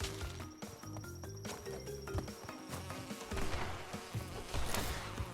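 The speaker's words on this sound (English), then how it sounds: "Bees." Bees buzzing in Crash Bandicoot 2 (N. Sane Trilogy) come as a faint, continuous drone over layered game music and effects.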